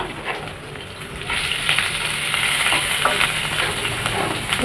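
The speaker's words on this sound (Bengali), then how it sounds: "তার মধ্যে ফুলকপি আর গাজরটা ভেজে নিলাম ভালো করে" Cauliflower and carrot fry in oil tempered with whole cumin seeds, making a steady crackling sizzle with occasional stirring scrapes that grows a little louder as the vegetables cook, close by.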